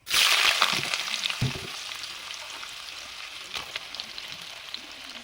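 Chopped onions hit hot coconut oil with a loud hissing burst that settles into a softer, steady crackling sizzle with scattered pops.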